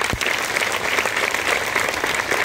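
Audience clapping steadily at a Savitribai Phule birth anniversary function, a dense, even round of applause from a hall full of people, sustained throughout with no talk over it.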